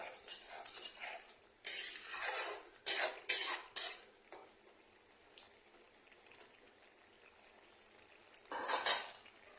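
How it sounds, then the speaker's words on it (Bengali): Shrimp being mixed with other ingredients in a pan, heard as a few separate bursts of metal spoon scraping and clinking against the cookware, with quiet gaps between them. "এটাকে একটু ভালো করে চিংড়ি মাছের সাথে সবগুলোকে একসাথে মিশিয়ে দেব"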